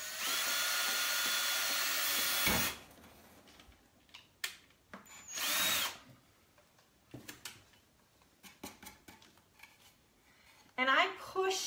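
A power drill bores into a wooden wreath sign for a baseball wreath. It whirs loudly and steadily for about two seconds and briefly again after a pause, with handling clicks and knocks between and a voice near the end.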